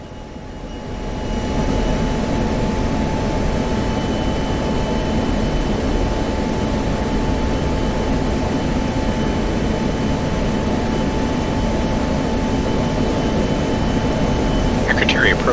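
A jet aircraft's engine roars steadily in the DCS World flight simulator on approach toward a runway over Syria, a constant heavy drone swelling in during the first seconds and then holding loud and unbroken.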